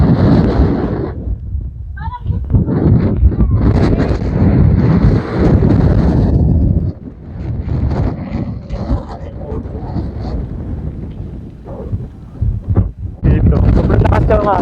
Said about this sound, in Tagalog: Dito, sobrang lakas ng hangin.